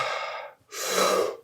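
Rapid deep breathing during a guided breathwork exercise, filling the belly and chest: one long forceful exhale, a brief pause, then a full deep inhale, close and breathy with no talking.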